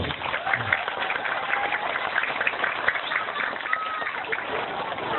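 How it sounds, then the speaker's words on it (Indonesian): Audience applause at a people's concert in East Lombok, a steady dense clapping wash filling the whole stretch at moderate loudness, with crowd noise mixed in. "Tepuk tangan untuk beliau"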